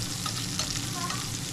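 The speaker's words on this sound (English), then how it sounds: "She's gonna sear a little longer. Put some bacon grease in." Meat sears in a pan with bacon grease, a dense, even sizzle and spatter running close and steady with light stirring, no voices.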